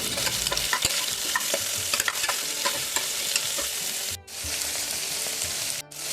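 Onion sizzles in oil with ginger garlic paste for a pulao while a spoon stirs and scrapes the pan in quick irregular strokes. The frying hiss runs steadily, with two brief drops, and no one speaks.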